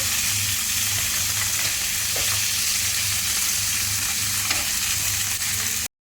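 Meat stir-frying in a pan with capsicum for a homemade capsicum pasta, a steady close sizzle with occasional scraping clicks, continuous and loud before it cuts off near the end.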